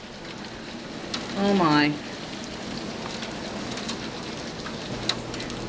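Heavy rain with hail pours down in a steady broadband hiss on a dark afternoon. A voice briefly exclaims partway through, and a faint click comes near the end.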